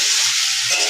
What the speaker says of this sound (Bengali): এই যে সবজিগুলো সব ভাজছি, সবজিগুলো একটু ভালো করে ভেজে নেবো